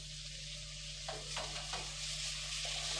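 Shallots and tomatoes sautéing together in a pan for country chicken curry make a faint, steady sizzle with a few soft stirring scrapes over a constant low hum.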